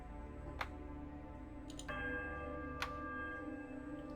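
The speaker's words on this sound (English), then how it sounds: "The bell sounds a strange warbling peal that grows to a painful shrillness before it diminishes to a mournful chime" Heavy iron bell in the video game Pillars of Eternity, ringing faintly over a low droning backdrop: a few sharp metallic strikes with a sustained warbling tone lingering after the second, quiet and distant.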